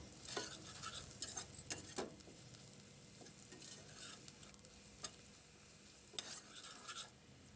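Ground masala paste cooking down in a pan for a shark fish curry, gentle sizzling with repeated scraping stirs at irregular intervals, quiet and close, with no talking.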